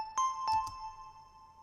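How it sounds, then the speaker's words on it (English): Dry synth bells strike a few quick notes with clean, sustained tones and no reverb tail, ringing alone and fading steadily. "So let me play these bells without EOS and with EOS."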